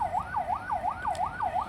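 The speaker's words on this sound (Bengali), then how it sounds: "অবশেষে পুলিশের গাড়ি আসলো" A police vehicle siren wails in a fast, regular rising-and-falling cycle, about five sweeps in under two seconds, moderately loud and unbroken.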